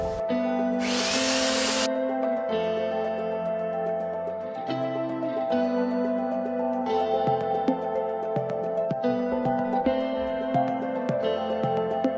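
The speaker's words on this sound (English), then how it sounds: "And now for more sanding." A power sander works over a wooden tree stump being shaped into a lamp base, giving a loud, steady close-up whine that shifts pitch as pressure changes, with a brief harsh burst early on.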